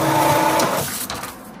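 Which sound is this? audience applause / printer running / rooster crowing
printer running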